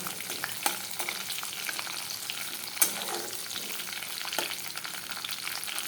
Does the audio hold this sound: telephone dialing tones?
no